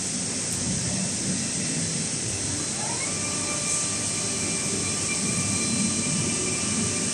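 A UniPrint spiral seamless sock printer fitted with four Epson print heads runs at a Shanghai trade expo booth, producing a steady loud mechanical whine and hum with a rising tone partway through, and no voices.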